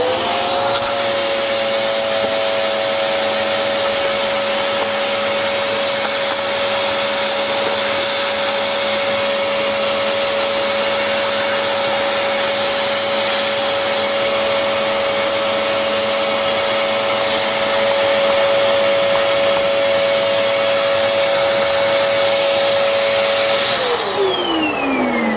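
A loud vacuum cleaner runs steadily with a high whine throughout, then its pitch drops as it begins to power down near the end.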